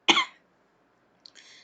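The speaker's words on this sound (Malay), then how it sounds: "Sorry, saya batuk sikit." A single sharp cough rings out up close in a quiet room, then a shorter, fainter throat-clearing follows about a second later.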